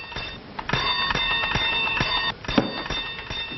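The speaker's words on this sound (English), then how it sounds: "stop ringing that bell" A bell rings rapidly and continuously, close and loud, with a metallic clanging rhythm throughout.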